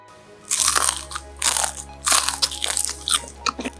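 Someone bites into crispy deep-fried cireng, a tapioca snack, giving four or five loud, close crunches in quick bursts, with no talk during the bites.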